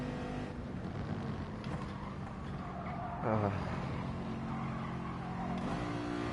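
Race cars running nose to tail in a slipstream train in the GT Sport video game, a steady engine drone with a brief revving surge, under quiet background talk.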